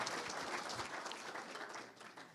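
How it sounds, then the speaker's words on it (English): Meeting attendees applaud the speakers at a regional collaborative gathering, a dense, even wash of clapping from a roomful of people, sustained throughout at moderate level. "if we could give our speakers one more round of applause"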